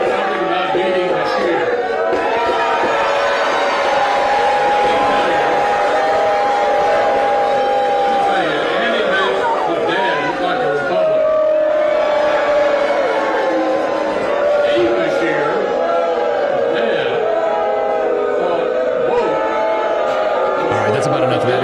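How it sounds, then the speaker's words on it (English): A hostile hometown crowd yells "retire" at Mitch McConnell, a dense and continuous roar of many voices with whoops and shouts that keeps going throughout at a steady, loud level. "all they're yelling is, retire"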